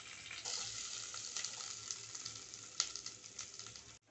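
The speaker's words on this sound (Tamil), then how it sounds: "நறுக்கி வச்சுருக்கேன் வெங்காயம், பச்சை மிளகாய் இதெல்லாம் சேர்த்து நல்லா வதக்கலாம்." Chopped onion and green chillies sauté in hot oil with curry leaves, giving a steady close hiss of sizzling broken by a few faint stirring taps.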